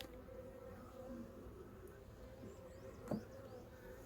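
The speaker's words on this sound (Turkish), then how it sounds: "Bu çerçevelerde biraz arı var." Honeybees hum in a soft, continuous buzz close by on hive frames during a hive inspection, with a brief knock or tap near the end.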